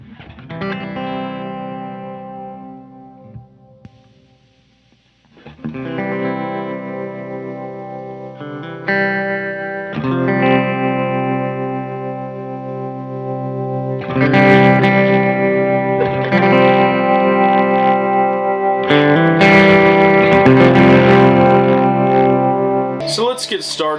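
An electric guitar played through a Fender Pro Reverb and a Supro Comet amp, both pushed into slight breakup, rings out in sustained chords and riffs with a warm, lightly gritty tone, loud and close.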